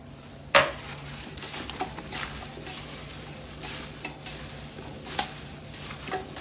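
Salt, pepper and oregano being stirred into a pan for Greek Easter lamb, with a sharp utensil clack near the start, then soft scraping and light sizzling continuing at low level without speech.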